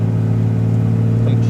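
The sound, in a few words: 2nd Gen Cummins 24v truck accelerating at full throttle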